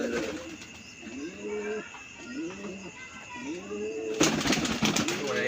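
Pigeons coo indoors at night in a room, a repeated series of soft, rolling calls close by, with a burst of rustling or wing movement near the end.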